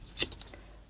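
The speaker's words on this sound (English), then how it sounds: "I'm so sorry about the scissors." Scissors snip through paper while cutting a journal cover topper, one crisp close cut followed by a few softer quick snips.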